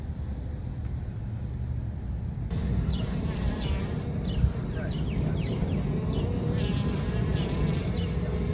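A swarm of bees buzzes around a hive freshly pulled from a house, a steady hum of many insects flying close by, with a louder outdoor layer starting partway through.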